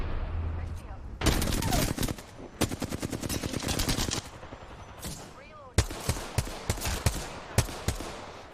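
Gunfire in the video game Apex Legends, with loud rapid automatic bursts and sharp single shots in close, irregular volleys, separated by short gaps and mixed with game sounds.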